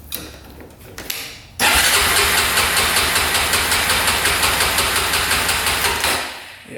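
A Honda 400ex quad with a bogging fault starts up and runs at open throttle, a loud, close, steady engine roar with a rapid pulsing beat that fades near the end.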